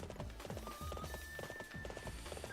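Rapid, rhythmic hoof clip-clop of a galloping horse in the Warriors Orochi 3 Ultimate video game, steady and fairly close, with game music and effects layered underneath.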